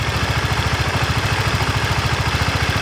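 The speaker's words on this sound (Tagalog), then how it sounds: "habang umaandar yung makina" A Honda CBR 150 motorcycle engine runs at a steady idle, a close, even, rapid putter with a faint mechanical clatter, heard alone without talk.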